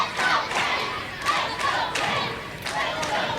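Wrestling crowd in Uniontown roaring and chanting for Chase Oliver during a match, a loud sustained mass of shouts with recurring surges and thuds, no clear talk on top.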